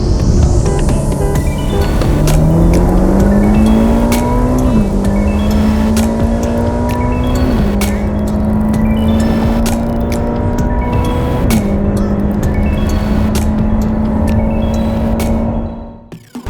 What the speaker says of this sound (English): Those are the results of the drag race between the Audi RS6 Avant and the GTC4 Lusso T.